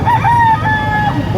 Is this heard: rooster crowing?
yes